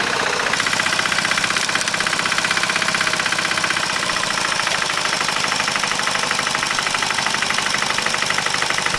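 A tractor hauling logs to a log cabin building site runs its engine loudly and steadily, with a close, rattling, knocking drone that never lets up.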